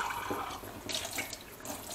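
Water runs steadily from a kitchen tap fitted with a drinking-water filter, a continuous close splashing hiss into the sink with no voices.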